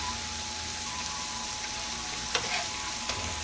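Peppers charring in a hot pan for a jerk chicken bowl, a soft continuous sizzle with a faint electrical hum and a couple of small clinks near the end.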